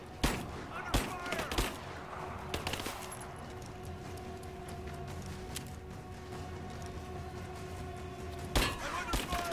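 Bursts of gunfire in a firefight in Rise of the Tomb Raider, with sharp shots near the start and end and a quieter stretch of tense game ambience between.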